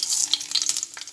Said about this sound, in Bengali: পাঁচফোড়নটা ভাজা হচ্ছে